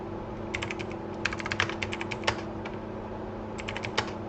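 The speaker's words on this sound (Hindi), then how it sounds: "तो मैं यहाँ जाकर हिंदी में कुछ लिखता हूँ गलत।" Typing on a computer keyboard while writing Hindi text in Microsoft Office, heard as bursts of quick, close key clicks with short pauses between runs over a steady low hum.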